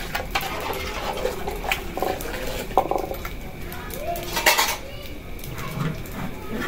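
Hot food is stirred in a metal pot to cool it, with clattering scrapes and clinks of a utensil against the vessel while people talk nearby.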